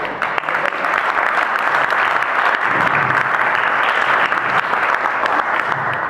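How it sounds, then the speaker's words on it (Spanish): Sustained applause from a church congregation fills the space, steady and fairly loud for several seconds with a dense wash of clapping and no clear talk over it. "vamos a darle un aplauso al Señor"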